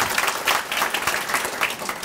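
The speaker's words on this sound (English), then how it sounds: "I think that deserves an applause" An audience at a heritage area council awards ceremony breaks into steady applause, a continuous patter of many hands clapping at moderate volume, fairly even throughout.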